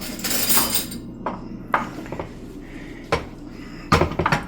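A spoon and dishes are handled nearby: a clattering burst, then scattered clinks and knocks of crockery and cutlery, fairly close and moderate in level, with no talking.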